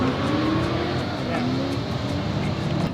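Drift cars roar continuously at close range, several vehicles in a drift train blending into a steady loud drone with rising and falling revs.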